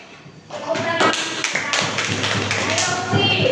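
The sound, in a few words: classroom clapping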